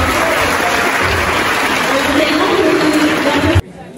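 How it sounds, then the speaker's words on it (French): A crowd at a graduation celebration applauds young slam poets with loud, continuous clapping mixed with chatter and cheering, ending abruptly after about three and a half seconds. "j'aimerais que vous fassiez un tonnerre d'applaudissements à nos jeunes slameurs"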